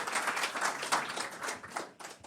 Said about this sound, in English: Can we please have a round of applause for our panelists?